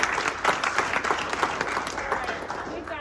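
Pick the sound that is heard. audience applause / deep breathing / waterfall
audience applause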